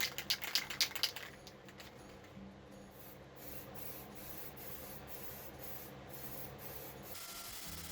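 A spray can hisses steadily as black paint goes onto the underside of a DIY firewood table, preceded by a few quick rattles of the can's mixing ball, close and continuous.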